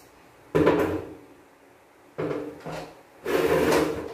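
A chair is set down in a home shower area, giving three separate knocking, scraping clunks of furniture against the floor, fairly close and loud.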